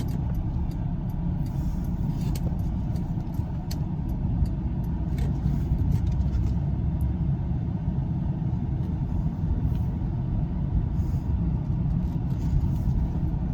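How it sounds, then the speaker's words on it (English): A 2002 Buick Park Avenue cruises on a test drive around the block, a steady low road rumble and engine hum from inside the cabin, continuous and even with faint ticking on top. "we'll take this car for a quick test drive around the block"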